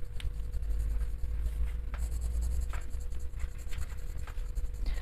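Steady scratchy rustle of a colored pencil coloring on paper, close and continuous, with faint low background hum and a few sharper strokes.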